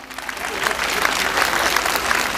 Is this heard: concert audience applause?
yes